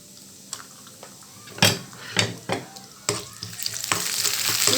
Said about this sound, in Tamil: இந்த எண்ணெயில் ஓரளவுக்கு தேங்காய் வந்து பொன்னிறம் ஆயிடுச்சு